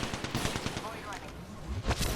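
Rapid bursts of gunfire in the shooter game Apex Legends, with quick repeated shots and sharp cracks that are moderately close, over a busy game background.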